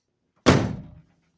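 A single solid thunk as the door of a 1965 Ford Mustang sitting on a rack moves and shuts, one loud close impact with a short decaying rattle, alone in an otherwise quiet space.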